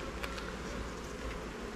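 Honey bees at production beehives, a dense continuous buzzing hum from many insects close by, steady throughout.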